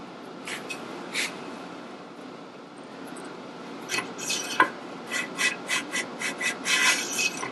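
A lapping tool is worked back and forth inside the pinion brace of a 1958 Harley-Davidson XL Sportster, making a steady close metallic rubbing that turns into a series of quicker rhythmic strokes toward the end.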